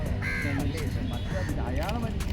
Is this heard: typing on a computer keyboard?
no